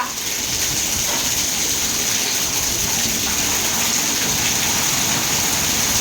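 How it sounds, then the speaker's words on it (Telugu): Heavy rain pours down in Hyderabad, a loud, dense and unbroken hiss of water pounding surfaces that holds steady throughout with no voices. "హైదరాబాదు అతలా కుతలం అవుతుంది వాన"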